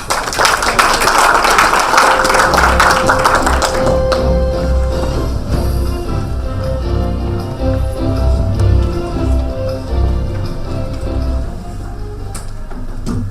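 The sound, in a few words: audience applause for the keynote speaker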